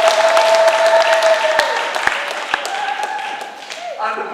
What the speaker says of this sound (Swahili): Kwa hivyo, situjipigie makofi,